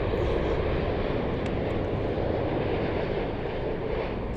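Rolls-Royce Trent engines on a Virgin Boeing 787 at London Heathrow, a continuous loud jet roar with steady broadband rumble and no pauses.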